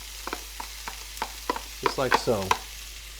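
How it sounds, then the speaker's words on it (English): Onions and yellow peppers cook in a pot for chili, with a gentle sizzle beneath repeated sharp clicks and scrapes of stirring; someone speaks briefly near the end. "I'm going to cook those onions down a little bit"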